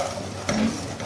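A spoon stirs semolina halwa with raisins as it roasts in a pan, giving a short, close scrape over a soft sizzle, with no talking.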